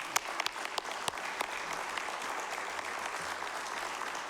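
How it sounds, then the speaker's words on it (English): Applause from the audience at a regular city council meeting, a sustained patter of many hands with a few sharp, close claps standing out early on, steady and fairly loud with no clear speech. "that deserves an applause"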